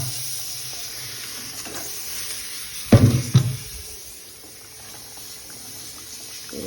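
Eggs go into a pot of simmering curry broth, with a low steady bubbling under a few loud splashy clunks midway as they drop in and are stirred.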